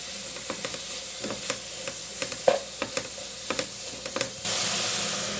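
Crushed ginger, garlic and green chilies frying in a pan for an egg gravy, with repeated scraping stir strokes over a soft sizzle that swells into a louder, steady hiss near the end.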